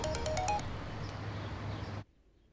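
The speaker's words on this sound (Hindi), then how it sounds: "वो फोन कर रहा है, उठा उठा।" A phone ringtone plays a bright, repeating electronic melody, then cuts off abruptly into near silence.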